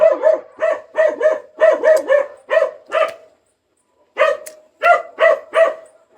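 A dog barks repeatedly and sharply, close by, in quick bursts of one to three barks with a short pause partway through.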